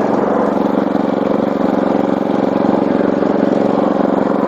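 A small single-cylinder walk-behind tractor engine runs continuously at a steady, loud chug, close by with no talking, while a rear hiller is lowered.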